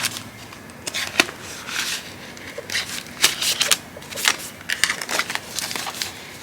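Paper savings envelope opened and stuffed with cash bills: irregular crinkling, rustling and papery snaps close by, with brief sharper crackles scattered through and no talking.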